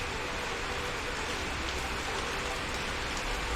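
Steady rain falling outdoors, a constant broadband hiss of drops on surfaces at even loudness throughout, with no voices.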